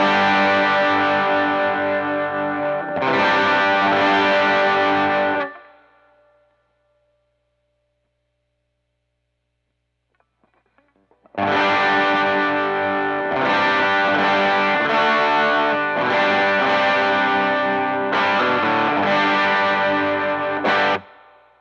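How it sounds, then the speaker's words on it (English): An electric guitar run through a Prince of Tone overdrive pedal rings out in full, driven chords with a gritty edge, loud and close, stopping for several seconds of silence before a second strummed passage. "if I stack it with something like the Prince of Tone"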